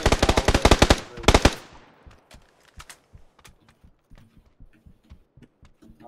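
Loud, close bursts of automatic gunfire in a PUBG match open the scene, followed by quieter scattered clicks and taps, with no talking.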